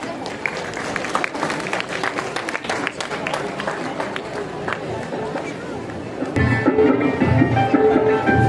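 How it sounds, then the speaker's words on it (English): Crowd applause and cheering at a cadet investiture ceremony welcome a dance group, lively clapping amid crowd noise, followed by music starting up loudly near the end. "Let's welcome them with big round of applause."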